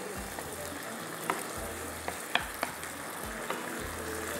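Vegetables stirred in a hot frying pan, with a continuous sizzle and a few sharp scrapes of a spoon against the pan at irregular moments.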